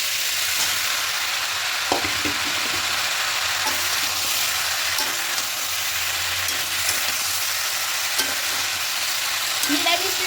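Soybean chunks fry with vegetables and spiced masala in a pan, making a steady close sizzle with occasional scraping stirs and light knocks throughout, without talking.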